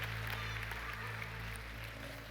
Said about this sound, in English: Give them both a big round of applause for volunteering